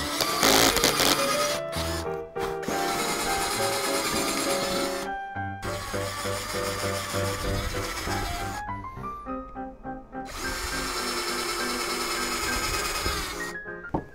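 A power drill boring holes through a wooden board laid over a sacrificial backing plank, loud whining bursts that rise and fall in pitch and stop and start several times, with no talk.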